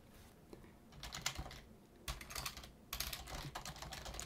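Keys clatter on a computer keyboard in short bursts of quick tapping separated by brief pauses, close and fairly quiet.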